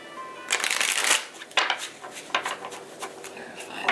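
Tarot clarifier cards are shuffled by hand in quick papery riffles and slaps, several bursts in an uneven rhythm, close and fairly loud with no talking.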